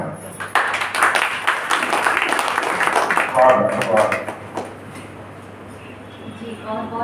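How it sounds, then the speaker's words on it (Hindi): A poetry evening audience claps loudly to welcome a female poet onto the stage, a dense burst of applause that swells and then thins out while a host's voice carries over it. "जोरदार तालियों से स्वागत"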